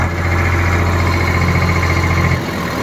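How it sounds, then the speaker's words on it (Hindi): A farm tractor's diesel engine running steadily nearby, a loud, continuous knocking throb with heavy vibration that dips slightly near the end. "आवाज बहुत बढ़िया ट्रैक्टर की"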